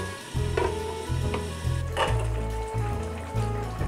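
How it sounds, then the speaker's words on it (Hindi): Potato, carrot and bean sabzi cooks in a covered pan over a medium-low flame, giving a steady close sizzle with soft bubbling and faint rhythmic lid rattles. No voices are heard. "कवर करके इसे मीडियम लो फ्लेम पर पकने के लिए छोड़ देंगे"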